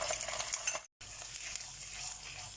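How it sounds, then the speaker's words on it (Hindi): Ginger garlic paste sautés in hot oil with a dense, hissing sizzle and light stirring scrapes. The sizzle cuts out for a split second near the start, then carries on steadily without speech. "लहसुन अदरक का पेस्ट भी हमारा सौते हो गया"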